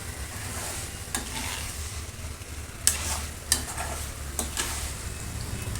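A vegetable biryani mixture is stirred in a pan over a steady, close sizzle, with occasional sharp clinks of the spoon against the pan breaking through the frying noise.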